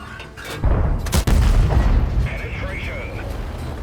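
The main gun of the Manticore light tank firing in World of Tanks: a couple of loud, deep booms close together, followed by a lingering rumble and fainter game effects.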